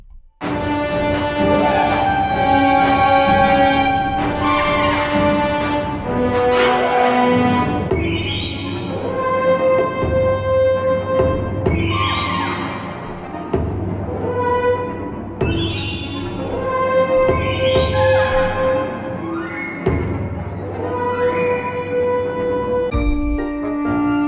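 Loud, dense orchestral music with sustained strings, swelling chords and booming low notes building in waves.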